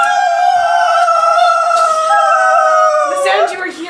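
A human voice imitates a spinning top with a steady, sustained whirring hum held close and loud, which bends and wobbles near the end as the pitch drops.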